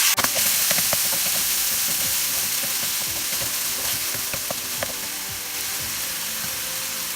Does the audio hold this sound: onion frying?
yes